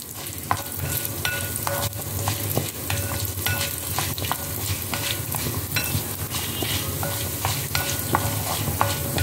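Curry leaves crackle in hot oil alongside toor dal and coriander seeds as a spoon stirs the pan, giving a continuous near sizzle punctuated by repeated metallic scrapes and taps; no voices.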